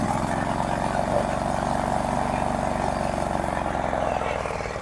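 A walk-behind tractor (motoblock) engine running steadily with a droning, pulsing putter, loud and near throughout, the note fading slightly toward the end, with a voice speaking over it.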